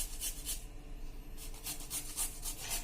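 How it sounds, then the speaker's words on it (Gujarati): A small piece of ginger is rubbed against a grater in steady, rapid rasping strokes, close and fairly soft, with no talking. "એમાં આપણે 1 ઇંચ આદુનો ટુકડો નાનો એવો છે એ આપણે આમાં ગ્રેટ કરી લેશું"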